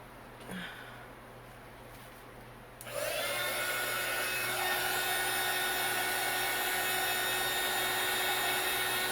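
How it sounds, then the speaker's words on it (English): A heat gun kicks on after a quiet start and blows hot air in a loud, steady whooshing roar over poured resin on a blue and turquoise marble wine rack. "Where's my handy dandy heat gun?"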